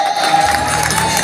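A crowd at a folk theatre performance claps and cheers loudly, a dense burst of applause with shouts and a sustained whistle-like tone, close and continuous.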